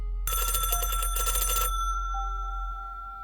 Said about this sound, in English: The kitchen phone began ringing again.